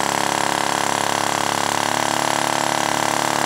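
A homemade flame sucker vacuum engine runs steadily with a fast, even, buzzing mechanical chug, loud and close, holding the same rhythm for the whole stretch with no talking.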